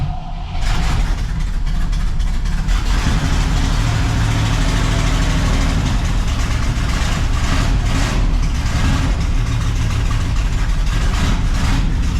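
A barn-find 1964 Pontiac Catalina, run after more than 30 years of sitting, cranks briefly and then settles into a loud, steady, rumbling idle that holds unbroken and close throughout, with no voices.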